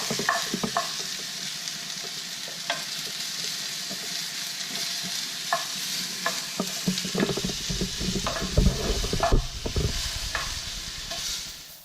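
Mushrooms frying in a pan while being turned and stirred, a continuous bright sizzle broken by frequent utensil scrapes and light knocks against the pan, growing busier toward the end.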